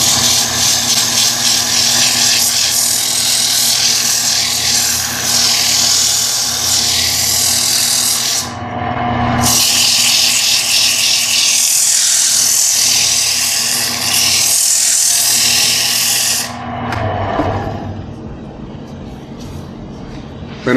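A loud power sander whirs on a woodturned wooden box for a long stretch. It stops briefly, starts again, then switches off and winds down.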